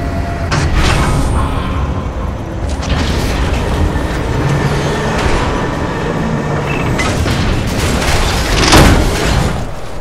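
A heavy cargo tram docking in the icy world of Lost Planet 3: a loud, continuous mechanical rumble with clanks and metallic booms, a swelling rush near the end, all steady and close.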